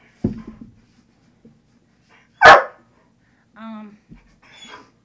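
Indoors, a puppy gives one sharp, loud bark in an otherwise quiet room, with a few softer whimpers and yips scattered around it.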